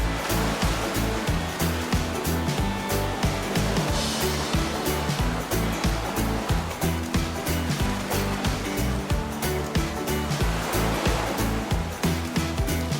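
Ocean waves roll onto a beach in a continuous, dense wash of surf that stays loud and steady throughout, with no voices.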